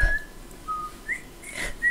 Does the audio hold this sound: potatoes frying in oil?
no